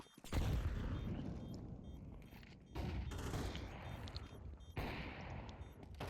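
Gunfire in the Counter-Strike 2 video game, with dense bursts of rapid shots broken by brief pauses. The rattling volleys sound fairly quiet and play without any talking.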